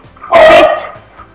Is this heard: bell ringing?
no